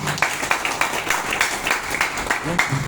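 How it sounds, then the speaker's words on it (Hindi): Audience applause welcoming a guru at a gathering, steady fairly close clapping throughout with some voices mixed in. "गुरुदेव के स्वागत में जोरदार तालियां बजाएं।"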